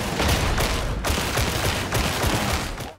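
Rapid sustained gunfire from a veteran sharpshooter's weapon in Warhammer 40,000: Darktide, loud, dense and continuous for about three seconds, with slight pulses in the volley.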